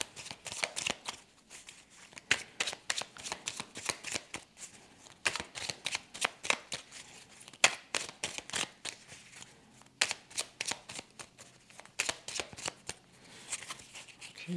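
A tarot deck being shuffled by hand, repeated bursts of crisp riffling card flutters in uneven rhythmic bunches, close and moderately loud with short pauses between, no talking.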